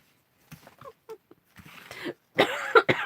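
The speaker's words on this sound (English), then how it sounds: "Coughing again" A person coughs and clears their throat in a few short, scattered bursts that build to two louder, harsher coughs at the end, close and otherwise quiet.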